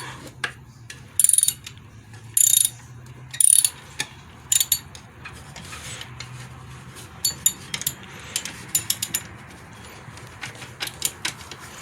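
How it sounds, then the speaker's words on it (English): A ratchet loosens a stubborn bolt on a dual alternator bracket of a 5.3L 1999–2006 Chevy/GMC engine, with loud, close bursts of rapid pawl clicking in irregular clusters separated by short pauses, no one talking. "Had to go back to the ratchet, get it off."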